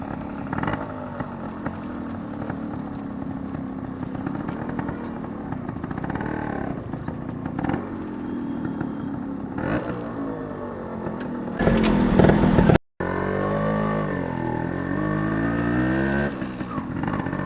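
An old Yamaha RX100 two-stroke motorcycle idles and revs steadily up close, its engine and exhaust a continuous buzzing drone with a brief louder surge and a short cut before the rumble resumes.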